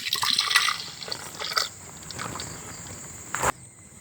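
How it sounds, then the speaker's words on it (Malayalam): Tender coconut water is poured into a vessel with faint, intermittent splashing and trickling in short bursts, ending with a brief clatter. "അപ്പോൾ നമ്മൾ പൊട്ടിച്ച കരിക്ക് നമുക്ക് ഈ വെള്ളം ഇതിലോട്ട് ഒഴിച്ചു കൊടുക്കാം."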